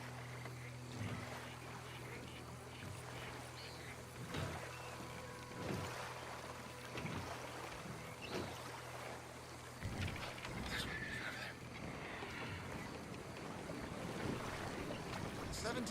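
A paddle steamer churns across open water in Red Dead Redemption 2, with a steady low engine drone, a washing wake and gusty wind noise. Occasional knocks sound over it, and a voice is faintly present.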